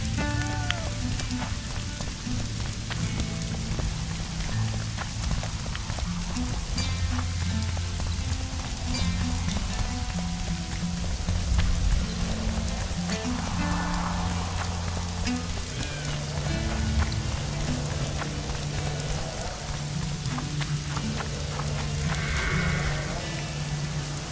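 Steady rainfall in The Witcher 2: Assassins of Kings video game patters on surfaces throughout, a dense continuous hiss with soft low tones and occasional brighter drips.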